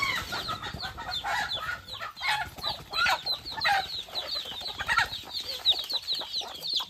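A village rooster clucks and squawks in quick, irregular bursts while it is chased and caught, with wings flapping and scuffling close by and a steady high hiss behind it.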